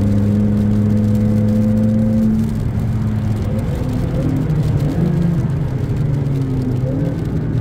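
A McLaren 650S engine hums steadily with shifting pitch as the car drives along in the rain, loud and close, with no talking.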